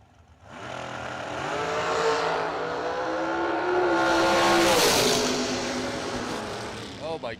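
A dragster launches at a drag strip with a roaring, rising engine blast that swells loud and surges again toward the end, with an announcer talking over it.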